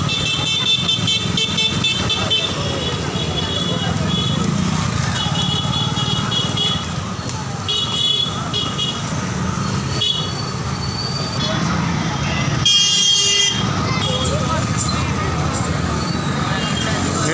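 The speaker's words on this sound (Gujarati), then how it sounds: "અને દિવાળીની કેટલું ટ્રાફિક છે શિવારમાં તમે જુઓ" Dense street traffic in a Sihor market on a festival day around Diwali, with engines rumbling steadily and repeated car and vehicle horns honking near and far, while voices talk over the bustle.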